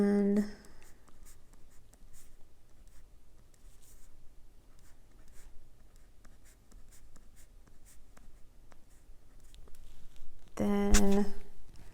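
A pen writing in an Erin Condren hourly planner, with steady soft scratching strokes close up and short pauses between words, and a brief louder knock or clatter near the end.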